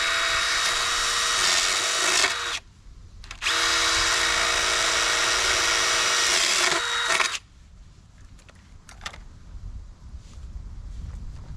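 A power drill fitted with a 5/8 or 7/8 inch bit bores holes in pond hose, whining loud and close in two sustained bursts with a short pause between them, then dropping away to quiet background noise.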